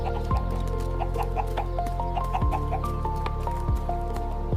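Chicken clucking in a Minecraft animation: a run of quick, bright clucks repeated in clusters over a steady droning background, fairly close and clear.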